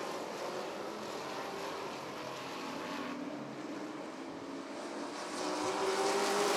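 Sportsman race cars roar around Rockford Speedway during an eight-lap heat race, a dense, distant engine wash that swells louder near the end, with no voices.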